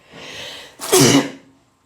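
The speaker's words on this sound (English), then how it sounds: "think I may have to sneeze." A single sharp sneeze, close and loud, preceded by a soft breathy intake, then quiet.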